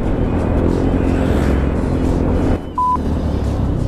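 A Honda Zoomer X scooter weaves through city street traffic, its engine and road noise a loud, steady roar, with a brief dip and a short horn-like tone near the end.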